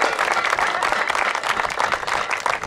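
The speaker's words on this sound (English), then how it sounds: "so I think that deserves a round of applause." An indoor audience applauds in a steady, dense wash of clapping that holds at an even level from start to finish.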